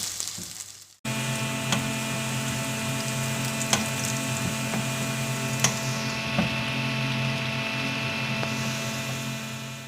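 Sliced onions fry in a pan of oil until light golden for a spiced tinda (round gourd) curry, a steady close sizzle with faint crackles that starts abruptly after a second of silence and continues evenly throughout.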